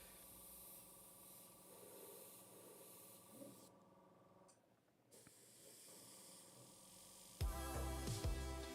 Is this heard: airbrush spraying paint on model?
yes